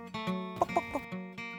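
Chickens cluck in a sharehouse yard: a few short, close, throaty clucks in quick succession over a sustained tonal hum.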